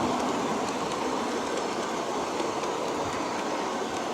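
Aristo-Craft E9 model locomotives with stainless steel wheels rolling along track, giving a steady, dense running rumble with a faint clickety texture, continuous and close, with no talk.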